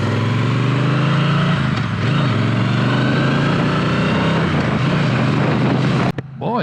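A Triumph Bonneville T120 Black motorcycle engine pulls hard while riding, a loud steady rumble that rises in pitch under heavy wind noise and ends in a sudden sharp bump.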